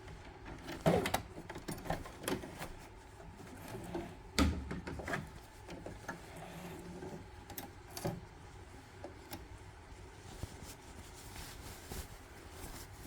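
A sewing machine stitches elastic into a trouser waistband, quiet bursts of mechanical whirring broken by sharp clicks and knocks, close by with no talk.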